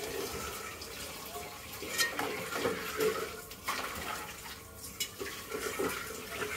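Onion fritters (piyaju) being stirred and turned while frying in a pan, a busy sizzling hiss with intermittent clinks and scrapes of a utensil, fairly faint and continuous.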